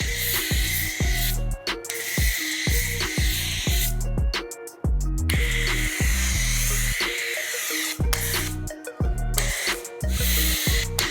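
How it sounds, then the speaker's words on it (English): A high-pressure foam gun sprays foam onto a vehicle in long pressurized hissing bursts, pausing briefly between passes, loud and close. "immediately coming in and putting some foam down on those areas that you've applied the bug off"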